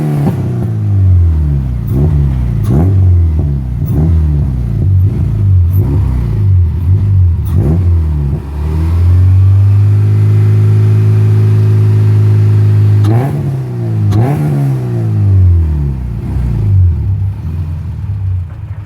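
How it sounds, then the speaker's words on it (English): A Subaru engine revved repeatedly during an upper engine cleaner treatment, loud close bursts of rising and falling revs, then a steady held rev for a few seconds before more short blips. "we still give it a couple of revs so you can get all that shit out."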